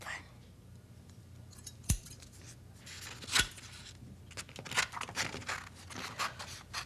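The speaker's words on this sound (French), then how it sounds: "Et maintenant, on découpe." Scissors cut through paper in a few quiet, close snips and crisp clicks, spaced irregularly, with soft rustling between cuts in a quiet room.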